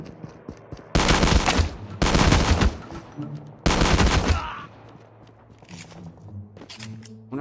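Shotgun fire in Call of Duty Mobile Battle Royale: three loud, close blasts in quick succession, each with a short rough tail, then quieter game ambience and faint movement sounds.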